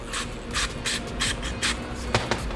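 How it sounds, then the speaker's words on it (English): Repeated short hissing bursts of a spray nozzle shooting cleaner through a drilled hole, about six in a steady rhythm, close by, followed by a couple of light clicks. "If you spray it through the top, just keep careful, it's gonna spray out of here."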